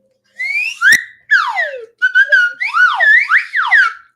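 A person whistles a quick series of shrill, sliding notes, some rising and falling in loops, close and loud with brief gaps, alone without talk.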